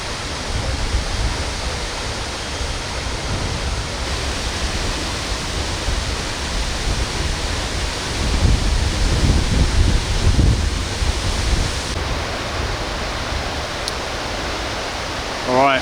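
A waterfall off the beaten path near Pakse in Laos rushes steadily as a broad, even roar heard close by, swelling slightly midway, with no talk over it.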